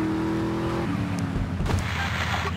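Lamborghini driving in Grand Theft Auto Vice City: a game engine drones and revs with tire squeal and skidding noise, steady and moderately loud, with no talking.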